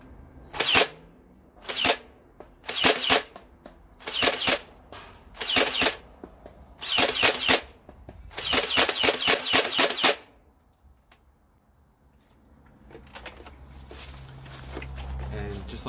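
A Nerf Stampede blaster with a brass breech, a semi-auto flywheeler, fires half darts in a series of sharp mechanical bursts, starting as separate shots and then running into rapid repeated firing before falling quiet.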